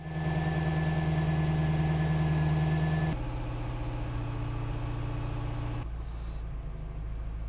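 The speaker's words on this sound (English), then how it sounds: "now we'll just let those engines idle" A GM 5.7L engine in an OMC Cobra boat idles while warming up, a steady loud low rumble that shifts to a slightly lower, rougher tone partway through and continues without talk.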